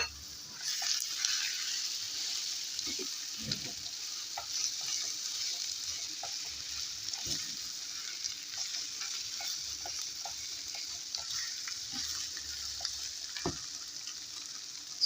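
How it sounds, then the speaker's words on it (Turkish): Mashed potatoes frying in a pan as filling for a crispy hand-rolled potato börek, with a soft steady sizzle and scattered scrapes and taps of a spoon stirring them. "Şöyle kokusu çıkana kadar 2 dakika kavurduktan sonra 4 tane harşeyip ezmiş olduğumuz patatesimizi ilave ediyorum."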